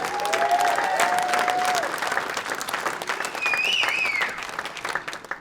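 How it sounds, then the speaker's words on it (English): Audience at a stand-up comedy show gives a sustained round of applause, a full, even clapping from a sizable crowd with scattered whistles, fading slightly toward the end. "Round of applause for yourselves for coming out tonight."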